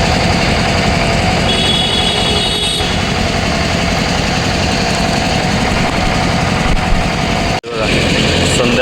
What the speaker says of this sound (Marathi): इथे पंपिंग स्टेशनचा पंप चालू केला आहे